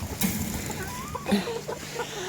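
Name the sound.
Pekin bantam hens clucking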